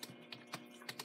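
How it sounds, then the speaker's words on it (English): Keys tapped on a computer keyboard, five or six quick, distinct clicks in about a second, quiet and close with no speech. "now I can type in what I want to type"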